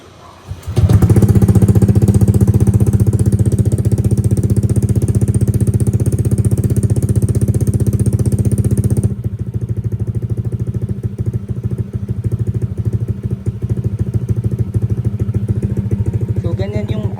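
A Honda Click scooter fitted with an Akrapovic exhaust starts and idles, a loud close putter that settles a bit lower after several seconds and keeps a steady, slightly uneven beat.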